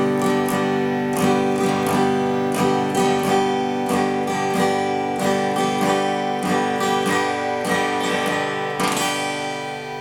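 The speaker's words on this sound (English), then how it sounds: "So that's the sound of a heavy pick." Acoustic guitar strings picked with a heavy pick, a steady run of bright, crisp attacks over ringing chords, close and loud with no voices.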